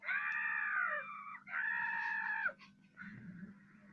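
A human voice imitates a dragon's screech: two long, loud, wavering shrieks followed by a shorter, softer rasping cry, all close and without other talk.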